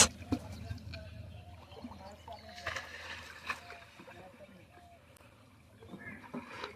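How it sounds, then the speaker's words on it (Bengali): A wooden rowboat moves on the Churni river, water lapping and sloshing softly near the hull with faint oar strokes, under a steady low engine-like hum and background murmur. "নৌকা চালাচ্ছে আমারই এক বন্ধু রাকেশ"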